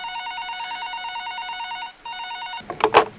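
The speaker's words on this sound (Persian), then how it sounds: "مامان تلفن داره زنگ میخوره" A telephone in the video game Resident Evil Requiem rings in a rapid, regular electronic trill, pauses briefly, resumes, then gives way to a short burst of clattering noise at the end.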